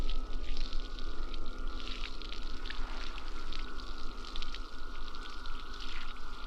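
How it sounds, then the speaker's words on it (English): Wet, gurgling water noise from a 1954 Godzilla suit analog horror piece, a continuous crackling, bubbling liquid texture with a low steady hum beneath, moderately loud and unbroken. "Okay, stop with the water noise."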